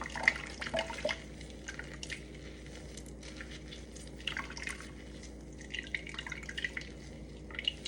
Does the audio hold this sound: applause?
no